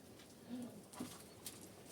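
A pigeon coos twice in short low bursts, fairly close, over faint rustling and background noise with no talk.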